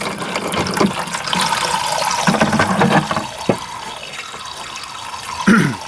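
Water gushes steadily into a bucket for a car wash, a rushing, splashing fill with a few clanks and knocks of the bucket or hose, no voices.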